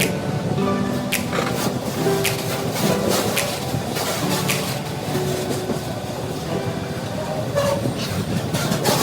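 A long freight train rolls past at Bristol Parkway station, a loud, steady rumble of wagons with repeated clicks of wheels crossing rail joints throughout.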